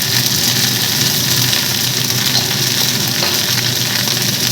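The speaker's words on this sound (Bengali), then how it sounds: "দিয়ে দিলাম লবণ হলুদ এবার এটাকে একটু ভাজা ভাজা করে নিই" Vegetables fry with salt and turmeric in a vegetarian home kitchen, giving a loud, steady, unbroken sizzle from a nearby pan with no talk.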